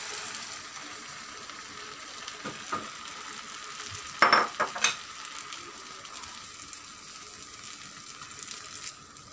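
Mashed tomatoes go into a frying chicken karahi and get stirred, a steady sizzle running throughout with a brief burst of louder scraping and clatter near the middle, no talking.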